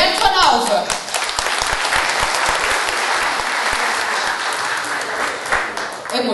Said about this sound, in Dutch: Een hartelijk applaus voor Bert van Alphen.